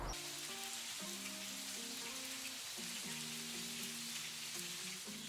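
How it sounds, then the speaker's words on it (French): Steady rain hisses evenly throughout in Nanaimo as winter approaches, with soft melodic tones playing beneath it. "La pluie refait son apparition dans nos vies."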